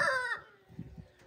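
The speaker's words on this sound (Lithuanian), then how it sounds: "pasirodo, girdisi kaimynų gaidžiai" A neighbours' rooster lets out the tail end of a loud crow that breaks off abruptly. Soft clucking and low farmyard murmurs follow, fainter and closer.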